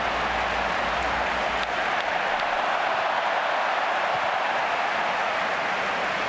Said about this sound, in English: Crowd roaring their approval there of the work of Messi to retain this Barca attack.